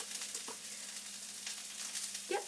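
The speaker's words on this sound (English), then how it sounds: "I'm sure you can hear that sizzle as it hit the oil" Broccoli sizzles steadily in hot oil during stir frying, a continuous soft hiss with a few faint clinks and scrapes of stirring, moderately quiet and close.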